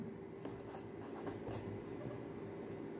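Pen scratching on paper while notes are written down for a harmonium lesson, a soft, continuous scraping with small strokes over a low, steady room hum.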